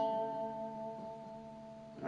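Electric guitar picking an intro riff, sustained ringing notes with steady tone, moderately quiet and alone, with a brief louder swell at the end.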